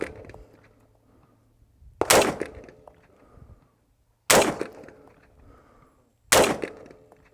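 Three sharp gunshots at a target on cardboard, fired from a gun fitted with an EOTech holographic sight, spaced about two seconds apart, each loud crack trailing off, with quiet handling noise in between.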